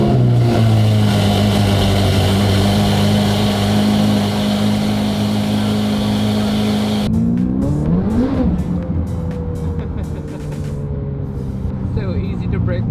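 A BMW M4 engine drones loudly on a cold start with steady tones from its Klein Inconel exhaust, then the pitch climbs and dips as it revs, with a sharp change in the sound partway through.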